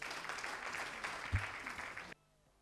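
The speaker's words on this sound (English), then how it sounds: "Honorable, welcome him with a round of applause." A round of applause welcomes an honored guest, Hon. Eli Karuhanga, at an elders' celebration event, with a roomful of clapping for about two seconds before it stops abruptly.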